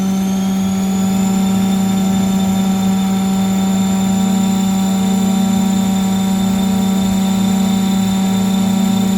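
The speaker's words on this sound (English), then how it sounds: "If you push and press and hold until the green button will be continuously on. Okay, so all spindles will be running." A Weinig Profimat 50 woodworking moulder with all spindles spinning up toward 7000 rpm gives a loud, steady, high-pitched machine whine with strong constant tones, close and continuous throughout.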